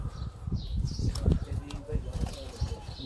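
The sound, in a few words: lakha pigeon cooing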